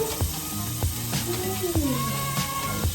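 Butter sizzles in a hot pan just after shrimp was cooked in it, for Tuscan shrimp, with the heat turned down. The hiss is steady and close, with faint background tones and a few soft clicks.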